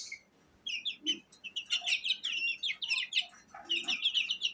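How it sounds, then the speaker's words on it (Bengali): Two-month-old Egyptian Fayoumi chickens chirp and peep in rapid, overlapping bursts nearby, with a few lower clucking notes mixed in. "ফাউমি মুরগি"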